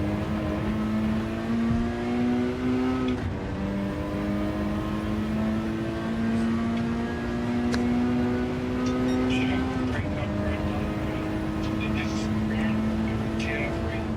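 A Peugeot RCZ GR3 road car engine in a racing video game drones steadily at high revs, its pitch climbing through gears with brief dips at shifts, while a voice talks over it.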